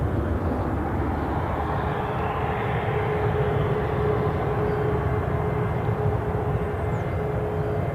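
Airliner at Newcastle International Airport, a steady broad engine roar with a low rumble, sustained and fairly loud throughout, with no talking.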